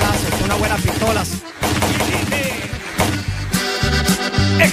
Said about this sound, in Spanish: unos balazos, unas buenas pistolas.